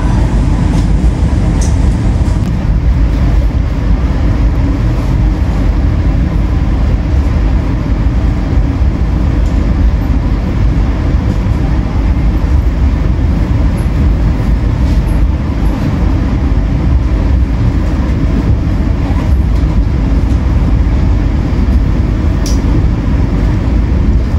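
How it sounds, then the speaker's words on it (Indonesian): The Argo Dwipangga passenger train departing Tugu station in Yogyakarta rumbles steadily and loudly throughout, a continuous heavy mechanical roar with faint high squeals, heard up close with no voices. "kereta api Argo Dwi Pangga diberangkatkan dari stasiun Tugu Yogyakarta"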